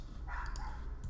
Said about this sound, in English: I'm sure you can hear that dog outside.